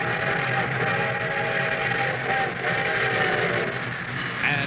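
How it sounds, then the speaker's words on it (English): A train rolling past as a 1951 radio show sound effect, a continuous loud rumble and clatter with a tonal whistle-like hum, steady for several seconds with no voices. "here comes our star-studded show train"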